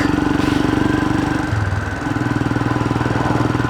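On a road test after valve replacement, a Royal Enfield Himalayan 411 engine thumps steadily and close by. Midway the note drops and shifts pitch, as in a gear change, then the pulsing drone settles again.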